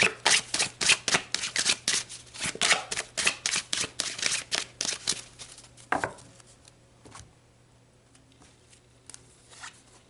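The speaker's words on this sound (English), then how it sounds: "So we'll pull 3 cards for the 1-1 and then 3 cards for the 1-11." Tarot cards being shuffled close up, a rapid run of crisp riffling flutters for about six seconds, then a few softer taps and handling noises as the deck settles, with no talking.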